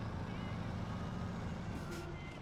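A heavy log-carrier truck in SnowRunner rumbles with a steady, dense low engine drone that fills the background continuously, while a voice talks over it.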